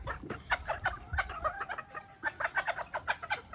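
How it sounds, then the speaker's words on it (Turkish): A breeding rooster clucks in a run of short, repeated calls with brief pauses, close and fairly quiet, with no talking. "Bakın bu çok güzel bir damızlı horozumuz."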